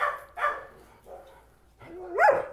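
A dog barks several times at a distraction in short, irregular bursts, fairly close, with a higher yip near the end and quiet gaps between.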